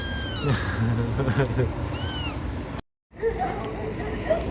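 Kittens meow in short, high, rising calls several times over a rumbling vehicle-like background, with speech mixed in during a car trip to a clinic.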